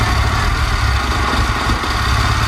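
A Honda S2000 engine cranking with a fuel-flooded cylinder, a steady loud mechanical churn that continues without firing, close and alone.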